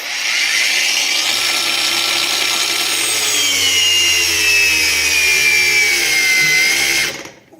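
A Heimerdinger LB184 cordless angle grinder runs at full speed with a loud, steady high whine that shifts slightly in pitch. It cuts off abruptly near the end.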